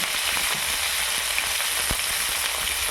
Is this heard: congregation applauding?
no